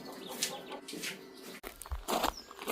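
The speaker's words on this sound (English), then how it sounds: "it sounds like the chickens are finally laying an egg" Backyard chickens cluck intermittently at a cottage, soft and moderately close, with a brief rustle partway through and a louder burst of clucks near the end.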